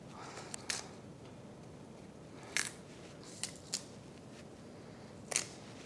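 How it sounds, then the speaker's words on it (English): Radicchio leaves being torn by hand onto a small salad plate, a few sharp, crisp snaps and crunches at irregular intervals over a quiet background. "So I have my radicchio, which I'm going to tear onto a little salad plate."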